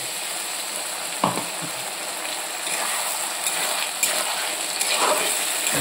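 A paste of ground ginger, garlic and chili frying in hot oil for ghugni, giving a steady sizzle with a few sharp spits and crackles, and a clink of utensils partway through.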